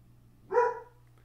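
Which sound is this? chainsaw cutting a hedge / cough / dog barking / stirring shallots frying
dog barking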